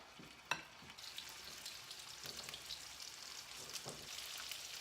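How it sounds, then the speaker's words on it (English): Steady crackling sizzle of chicken strips frying in hot olive oil, continuous and close, with a few sharper pops and spits along the way. "add our chicken strips right in there, and it should sizzle"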